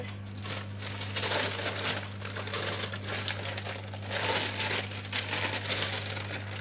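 Paper crinkles and rustles in repeated bursts while a gluten-free apple pie is being made, a close, fairly loud dry crackling with a steady low hum underneath.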